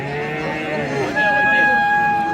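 A cow at a rural cattle market lets out one long, loud, close moo that rises in pitch partway through. Market background noise sits underneath.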